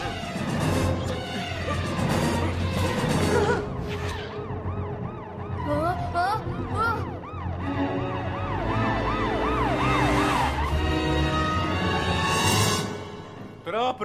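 A wailing cartoon police siren from a ghost police car in an animated Casper Christmas film, loud and rising and falling over chaotic music and shouting voices.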